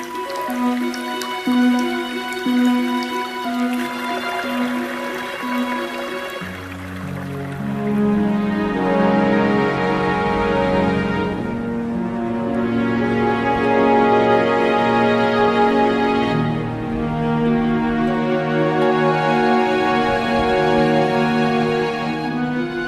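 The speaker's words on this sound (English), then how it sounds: "The trickle and murmur of water is everywhere." Spring meltwater trickles and drips on the Arlberg mountain as winter thaws, a continuous patter of drops and soft murmuring flow beneath a prominent layer of sustained music.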